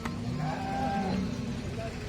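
A cow at a cattle market moos once in a long, low drawn-out call, moderately close, over a faint steady background hum.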